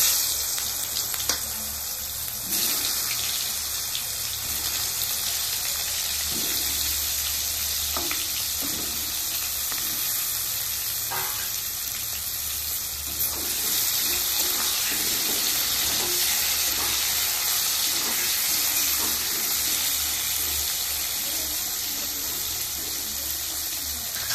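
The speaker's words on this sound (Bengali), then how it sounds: "এবার আমি হালকা করে ভেজে নেব।" Eggplant pieces coated with turmeric frying in hot oil for a rohu fish curry with taro, giving a steady, close crackling sizzle with occasional stirring clinks throughout, no talking.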